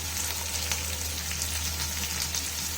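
Onion with cumin, garlic and ginger frying in a pan for kaju curry, a steady close sizzle with a low constant hum underneath, no talking.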